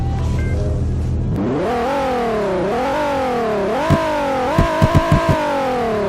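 Car engine revving in Roblox Greenville, XR trim on 5XNS rims, a loud continuous engine tone climbing in stepped surges with shifts, a few clicks near the end, no talk.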